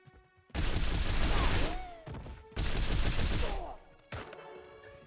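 Gunfire in the From Russia with Love video game, with two long loud bursts of rapid automatic fire and a shorter third burst, separated by brief quieter gaps.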